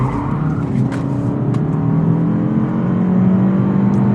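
A 2023 Toyota Camry SE corners hard, its tires squealing in a sustained high whine over the steady rumble of the engine and road noise.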